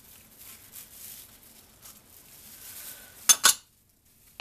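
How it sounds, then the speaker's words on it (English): A spatula scrapes out a small additive bowl while making goat milk, honey and oats soap, giving soft quiet scraping through most of the clip and two sharp close clinks near the end, then silence. "I want to scrape the little additive bowl to make sure I get everything out of there"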